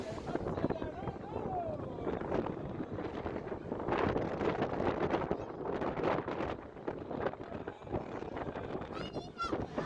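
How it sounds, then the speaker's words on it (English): Strong wind buffeting the microphone on a windy day at the Silver Dollar City theme park, rough gusty rumbling that swells and eases while a person talks over it. "you can see it's a definitely windy day"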